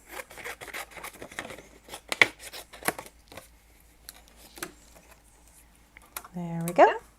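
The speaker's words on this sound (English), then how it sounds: "I think I'll just cut a piece of that off." Scissors snip paper for a handmade 6x3 thank-you card, a series of sharp, close cuts spread across the clip, with soft handling sounds and a voice speaking briefly.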